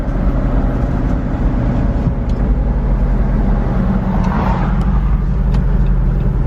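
A 2021 Jeep Wrangler Rubicon 392 with a V8 HEMI engine drives along, its deep steady engine rumble and road noise loud and continuous throughout.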